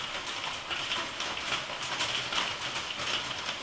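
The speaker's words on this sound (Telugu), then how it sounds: "చూడండి, ఫుల్ వర్షం." Heavy rain falls outside, a steady, even hiss of moderate loudness heard from indoors and lasting throughout, with no voices over it.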